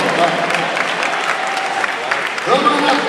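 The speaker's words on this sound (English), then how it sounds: "Give them a round of applause" A crowd applauds through a move-in day event, a steady wash of clapping with people talking over it and a few shouts near the end.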